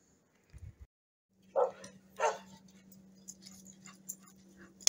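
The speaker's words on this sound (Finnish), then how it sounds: "Siellä minun vahtikoira näki toisen koiran." A guard dog barks at another dog outdoors beside a campfire where rainbow trout is being smoked: a couple of short, sharp barks a little way off, with a steady low hum and faint background noise.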